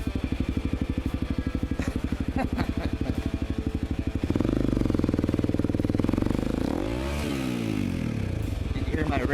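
A Honda CRF250L dual-sport motorcycle on a road ride thrums with a steady pulsing engine note, then climbs sharply into a louder rev around the midpoint and sweeps through changing pitch, with wind rumble and some talk mixed in.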